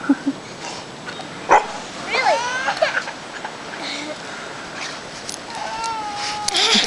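A dog out in the snow gives a few sharp barks and yips, along with some whimpering, against a steady outdoor hiss, while people talk intermittently nearby.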